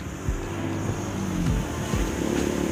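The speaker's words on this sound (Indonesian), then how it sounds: "wah, anginnya kencang sekali." Strong wind blows steadily across an open toll-gate area on the Cijago toll road, a loud continuous rushing roar close to the microphone with faint low rumbles underneath.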